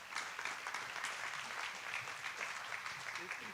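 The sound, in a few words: applause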